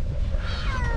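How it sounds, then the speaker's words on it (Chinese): A cat meows on a raft used to ferry people to a spot cars cannot reach, a drawn-out nearby cry with a rising, wavering pitch over steady low rumbling water and outdoor noise. "然后转过来说这个筏子上面有只猫咪"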